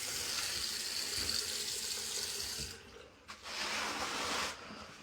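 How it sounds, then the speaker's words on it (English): Cold water runs from a newly installed bathroom sink faucet, a steady hissing stream that drops away briefly, returns, then cuts off again near the end. "Now we'll turn cold water on."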